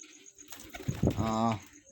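Pigeons in a cage give a short burst of cooing, a couple of soft low calls rising near the end, close by against a quiet background.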